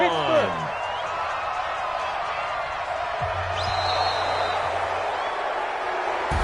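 Stadium crowd noise from the Madden 20 football video game, a steady broad roar of a distant crowd with a few faint whistles and short tones, continuous across the whole stretch.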